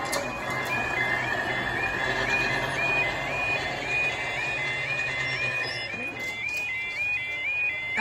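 A level crossing alarm at Ferryside station in Carmarthenshire sounds a steady, evenly repeating two-tone electronic beep that occasionally skips. It carries on throughout over low ambient rumble.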